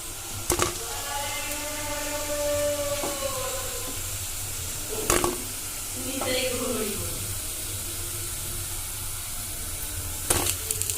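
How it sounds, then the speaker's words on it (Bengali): Onion pakoras (piyaji) deep-fry in hot oil with a steady, hissing sizzle. Someone talks over it, and a few sharp utensil clanks cut in near the start, middle and end. "এবার আমরা গোল্ডেন ব্রাউন করে ভেজে নেব।"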